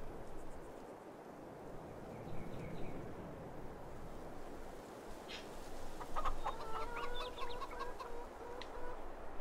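Chickens cluck inside a coop in Farming Simulator 22, a busy farmyard bed of murmuring hens with sharper clucks and calls rising toward the end.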